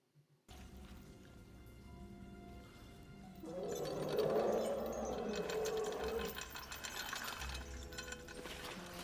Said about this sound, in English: you hear the chain